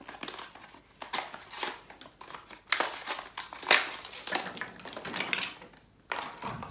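A Zuru X-Shot Bug Attack Swarm Fire blaster shoots foam darts in a series of sharp, close mechanical bursts and clacks, spaced irregularly with short pauses between shots.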